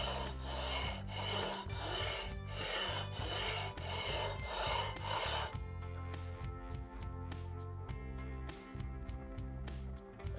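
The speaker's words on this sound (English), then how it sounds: "I'm just literally letting the sandpaper do the work." Sandpaper rubs back and forth against a guitar nut during slot cutting, a quick run of rhythmic rasping strokes followed by slower, lighter scrapes and taps.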